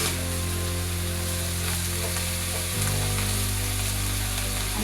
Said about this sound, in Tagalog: Igisa po muna natin yung gulay.